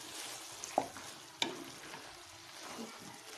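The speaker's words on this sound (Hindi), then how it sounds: "इन दोनों चीज़ों को हम फिर से एक दफ़ा थोड़ी देर के लिए भून लेंगे" Kachnar pods and minced meat fry in a pan with a faint, steady sizzle, broken by a couple of sharp clicks of a spoon stirring against the pot.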